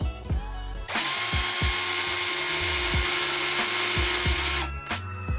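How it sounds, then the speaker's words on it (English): A power drill whirs loudly and steadily for several seconds while drilling holes, bracketed by short clicks and taps before and after. "Alright, so I've drilled my holes on both sides."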